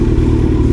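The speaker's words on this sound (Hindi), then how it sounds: "कितना लो स्पीड में जा रहा है बाइक" A motorcycle cruising slowly in fifth gear at about 23-24 km/h, a loud, close, steady low engine drone with slight clatter and no voices.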